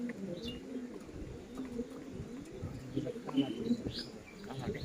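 Soft, low cooing of several pigeons with faint chirps, murmuring continuously at a moderate distance, with muffled human voices in the background.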